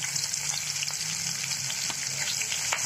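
Chopped onion drops into hot oil with toasted cumin seeds and is stirred, giving a steady close sizzle with soft scraping strokes and an occasional light clink throughout.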